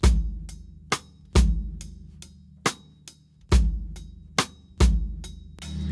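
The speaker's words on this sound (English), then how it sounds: "The other part that it goes to is one bass drum less." Slow acoustic drum kit groove played close with one fewer bass drum hit per bar, sparse thumps, cymbal and hi-hat strokes ringing out between them in a relaxed repeating pattern.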